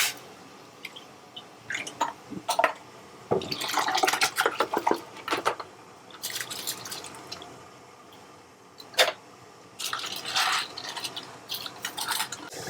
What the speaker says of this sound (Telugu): మసలని ఇక వాటర్ మసులుతున్నాయి